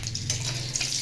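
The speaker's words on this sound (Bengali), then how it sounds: "দেখো তেলটা চটচট করছে" Hot oil splutters and crackles in a pan in a continuous dense hiss with a low hum beneath, close and brief.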